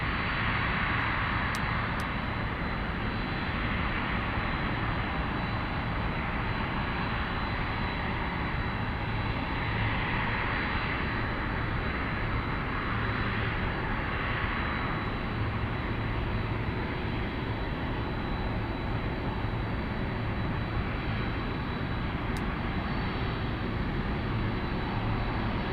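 A Cathay Pacific airliner's engines roar steadily at an airport, a continuous, loud, even drone with no pauses and no voices.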